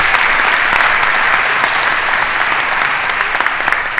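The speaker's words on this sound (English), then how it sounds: "Let's give these students a wonderful, wonderful round of applause." Strong, steady applause fills the room from an audience at a naturalization ceremony, dense clapping from many hands with no talk over it.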